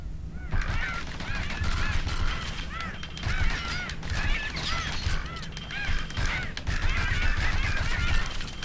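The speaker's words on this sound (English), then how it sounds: "Birds." Goose-like honks and squawking bird calls come in repeated bursts from a flock in the Bastion video game, with a steady rumbling bed underneath and no talking.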